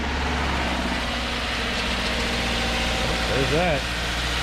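A Subaru with a coolant leak and its check engine light on sits idling, a steady low rumble under a man's brief speech, with a short rising and falling engine swell near the end.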